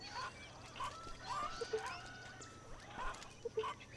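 Chickens in a nest in the zoo-building video game Zoo Tycoon 2 give a few short nasal clucks and honk-like calls in quick groups over faint game ambience.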